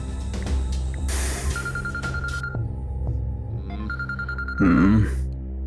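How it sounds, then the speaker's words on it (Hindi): A phone rings during a scene in a Hindi-dubbed South Indian action film, sounding as two short bursts of a steady electronic tone over background music and rustles, with a brief vocal groan near the end. "अरे कौन फोन कर दिया यार?"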